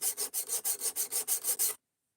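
A knife is sharpened on sharpening stones in about ten even, rhythmic gritty strokes, close and crisp, then it stops abruptly into silence.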